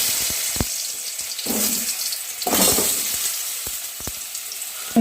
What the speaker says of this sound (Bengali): এবার আমি দিয়ে দিচ্ছি আলুগুলো ভাজা করে নিচ্ছি।